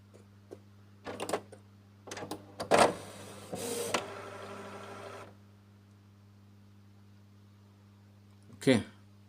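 Powering on, a Canon PIXMA TS3640 printer makes a series of close mechanical clicks, clunks and a brief whirring motor run under a steady low electrical hum, ending with one last clunk after a pause.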